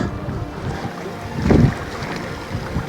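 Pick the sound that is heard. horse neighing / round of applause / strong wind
strong wind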